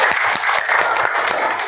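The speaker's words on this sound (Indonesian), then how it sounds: "Coba tepuk tangan." A school class claps together in a brisk, dense burst of applause that runs the whole moment, loud and close.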